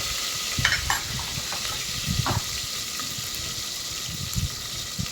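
Chopped onions fry in a pan with a continuous sizzle, punctuated by several soft scraping stirs and light clinks of a utensil.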